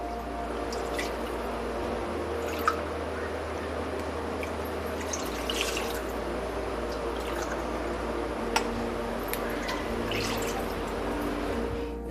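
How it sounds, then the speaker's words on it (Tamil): Milk poured from a tumbler into a pan for a milk sweet, a soft continuous liquid splashing with occasional drips, faint and close, no voices. "டம்ளரால் 3 டம்ளர் பால் விடுறேன்."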